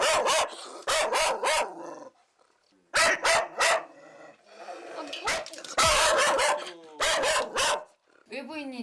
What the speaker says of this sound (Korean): 외부인이 들어오면 일단 공격성 짖음처럼 강하게 짖어요.